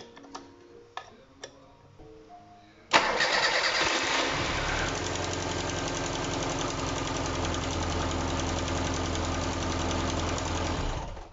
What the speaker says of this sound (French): Vous avez entendu comme moi le petit problème, on n'a pas bloqué le collecteur d'échappement.